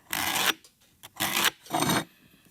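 A graphite marking pencil drags across a board in three separate raspy strokes, each about half a second long, close and loud with short pauses between them.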